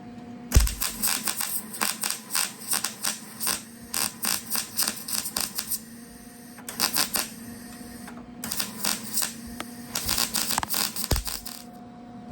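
Crackling bursts of welding on rust repair of a 1973 VW Super Beetle, arriving in short irregular spurts with pauses between, over a steady low electrical hum.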